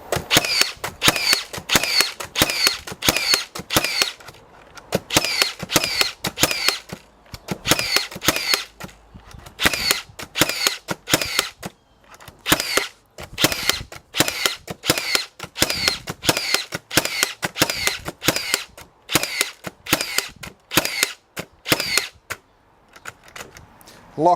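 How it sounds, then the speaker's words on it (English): A Makita 18V cordless framing nailer fires a strip of nails as fast as possible, a long run of sharp, loud cracking bangs in quick bursts with brief pauses, ending when the tool locks out. "I'm just going to go bang, bang, bang, see how fast we can go and see how many nails are left when it locks out."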